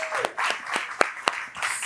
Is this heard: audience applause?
yes